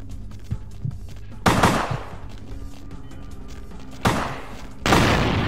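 Gunfire in the video game Vampire: The Masquerade Bloodlines, with three loud, abrupt shots or bursts spaced across the moment, each trailing off over a low background hum.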